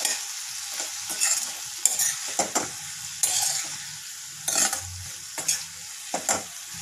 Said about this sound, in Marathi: आता आपण यामध्ये गूळ हा ॲड करूयात आणि व्यवस्थित मिक्स करून घेऊया